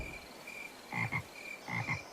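Frogs croak in two short double bursts, fairly close, over a steady hum of insects at night.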